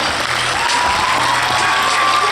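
A film premiere audience applauds as cast and director are introduced, a dense, continuous wash of clapping from a crowd, loud and steady, with no voices breaking through.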